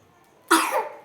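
A child coughs once, sharp and close, after a quiet moment, in a home kitchen where an omelette is being cooked.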